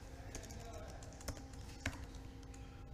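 Keys tapped on a computer keyboard while a name is entered into a web form, a few sparse, close clicks over a low steady room hum.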